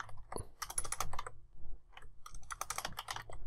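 Typing on a computer keyboard during a beginner Python lesson: two bursts of rapid, close key clicks separated by a brief pause, with no speech over them.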